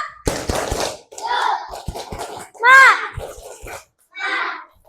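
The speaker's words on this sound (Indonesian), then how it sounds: "Coba tepuk semangat" Schoolchildren in a classroom clap a rhythmic spirit clap in sharp, patterned bursts, mixed with their loud chanting and shouting voices in a lively, echoing room.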